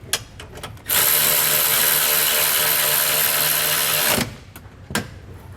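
A power drill whines loudly and steadily for about three seconds, tightening bolts during installation of a trailer brake controller in a 2021 Mercedes-Benz, with faint handling clicks before and after.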